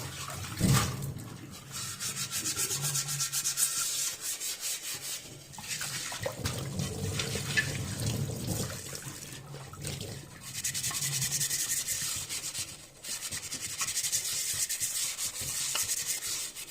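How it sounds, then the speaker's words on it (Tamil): A new clay pot is scrubbed with a scrubber and no soap, producing steady rough rasping and rubbing strokes with short pauses, close and moderately loud throughout. "இந்த ஸ்க்ரப்பரை வச்சு சும்மா அப்படி தேய்ச்சிக்கலாம்"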